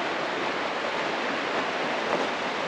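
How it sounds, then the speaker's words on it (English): Clear, shallow river in Manning Park, Canada, rushing steadily at a campsite, a dense, unbroken wash of flowing water close by with no voices. "let's go check out this river down here"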